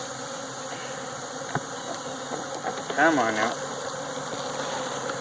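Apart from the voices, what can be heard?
honey bees buzzing while shaken into a box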